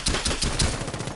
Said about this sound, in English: somebody's shooting me